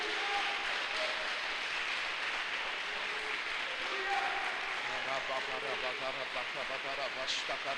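A church congregation applauds with steady, dense clapping that goes on for several seconds, while voices and faint music sit underneath.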